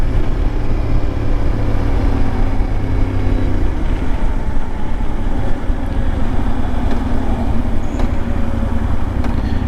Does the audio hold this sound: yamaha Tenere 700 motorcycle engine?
yes